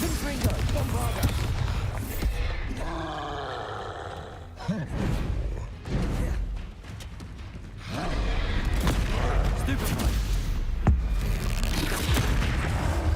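Spell blasts from Confringo and Bombarda in the game Hogwarts Legacy: repeated booming explosions and roaring bursts in quick succession, loud and close, dipping briefly in the middle before the blasts resume.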